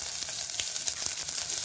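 Shallots, garlic and curry leaves sautéing in hot oil in a pan, a steady close sizzle with small crackling pops throughout, no voices.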